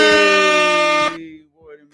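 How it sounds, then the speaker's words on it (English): A loud, close air horn sound effect blares in a steady, sustained blast for about a second, then cuts off abruptly, followed by a short faint fragment of sound. "the air horns is loud because I turned the wrong computer down"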